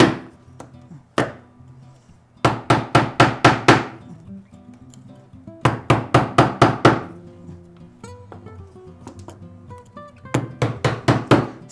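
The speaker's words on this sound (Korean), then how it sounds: "세기를 박으면서 케인이 여기 홈에 들어갈 수 있도록 꽂아" Stakes for a rattan cane tray are hammered into place in close groups of sharp, rapid knocks, several bursts of five or six blows separated by short pauses, loud and near with no talk.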